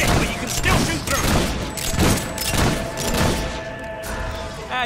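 Rapid volleys of gunfire from the Fable 3 video game crackle in repeated bursts with heavy thumps, dense and steady throughout, mixed with battle noise and voices.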